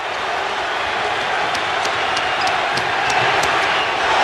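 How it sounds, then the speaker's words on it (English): An arena crowd at Game 7 of the 1988 NBA Finals, Pistons at Lakers, roars loudly and steadily throughout. The dense cheering is faintly dotted with sharper shouts and squeaks. "Crowd on its feet in unison now."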